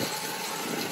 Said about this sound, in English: So while the engine's warming up